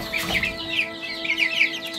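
A two-month-old crossbred village chicken clucks in a quick run of short, fairly close calls over a steady low hum.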